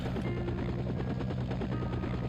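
A helicopter in the video game SimCopter gives off a steady, droning rotor whir with a faint rhythmic pulse, moderately quiet and continuous with no talk over it.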